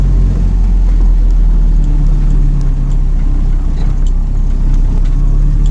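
A car engine rumbles steadily and loud from inside the cabin while driving slowly along a snowy winter taiga road, a constant low drone with faint crunching and no talk.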